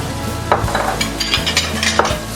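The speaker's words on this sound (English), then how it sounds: "Here in the grease, we're going to add some onions" Onions go into the rendered fat left from cooking tri-tips, giving a steady close sizzle with stirring scrapes and a few utensil clinks against the pan.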